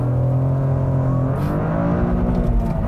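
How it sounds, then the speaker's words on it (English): A Toyota GR Corolla's three-cylinder engine revs hard under acceleration up to the rev limiter, a loud rising drone with stepped pitch climbs heard from inside the car. "Got a little bit friendly with the rev limiter there, but that was really good. Makes a nice noise, and for a three-cylinder engine, this thing really moves."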